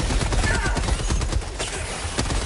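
Heavy machine gun emplacement in Helldivers 2 firing continuously, loud dense bursts of rapid shots with battle noise throughout and no pause.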